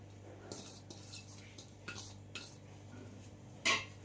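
Wheat flour is worked together with spices and chopped fenugreek leaves in a bowl, producing quiet scraping swishes and light clinks at irregular intervals, with one sharper clatter near the end.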